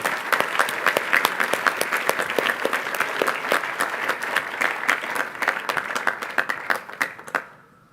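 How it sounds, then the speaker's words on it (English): A school audience at a Grade 8 class day ceremony claps steadily for a student advisory group, a dense, crisp, sustained round of many hands that tapers off and stops near the end. "Let's have another round of applause for Mr. Rose's advisory."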